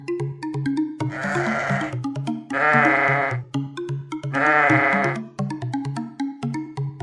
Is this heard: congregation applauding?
no